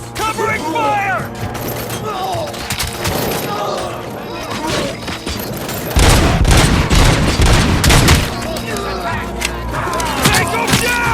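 Covering gunfire erupts in RoboCop: Rogue City, with bursts of rapid automatic shots and booming impacts, loudest in the middle, while voices shout over the battle.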